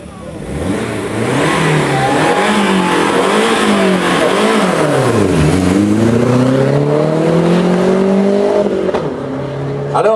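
A historic car accelerates up a hill climb course at Salins, its engine revving loudly and climbing in pitch through gear changes, with an announcer's voice faintly underneath.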